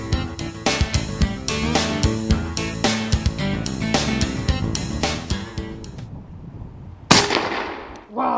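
A Slayer .357 rifle fires once while hunting beaver in Tierra del Fuego, Chile: a single loud, sharp report with a quick decaying tail near the end, after a stretch of rhythmic, percussive music.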